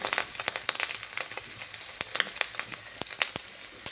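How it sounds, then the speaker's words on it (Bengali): Bora fritters fry in an overheated wok (kadai), with quiet, irregular crackles and sharp pops over a low, steady sizzle and no voices. "এখনই বড়াটা করছি"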